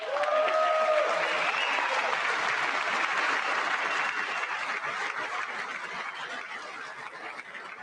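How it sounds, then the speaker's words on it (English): Sustained loud applause from a large audience in the chamber of Congress during the State of the Union address, a dense wash of clapping that holds steady, then eases slightly toward the end. "I wasn't sure if anybody even on this side was going to applaud for that."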